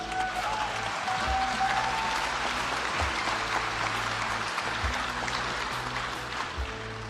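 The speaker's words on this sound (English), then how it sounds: "Lots of applause!" Audience in the United Nations hall applauding after a speech, a dense, sustained wash of clapping hands that stays loud and steady throughout, with no voices over it.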